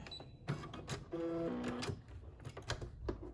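A sewing machine back stitches a child's cloth face mask, a short burst of motor whir in the middle set among quieter clicks and handling noises.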